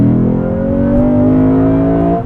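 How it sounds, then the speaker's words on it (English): Lexus GS F V8 at full throttle with traction control on, a loud, steady engine roar climbing smoothly in pitch as it accelerates, heard from inside the car with no talking. "Traction on, and I'm gonna floor it."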